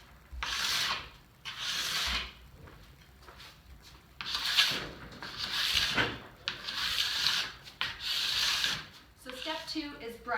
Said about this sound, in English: Get your favorite scraper. I like the really sharp ones. And just push that wax right off.